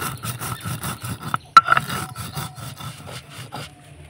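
Spices for a raw mango pickle are ground coarsely, leaving them slightly grainy, with a rapid, rhythmic series of close, gritty rubbing and scraping strokes and one sharper knock midway.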